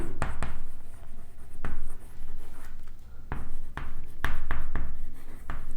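Marker or chalk scratches steadily across a classroom board in quick strokes and taps during a biology lecture on bacteria, close and clear with a low room hum underneath.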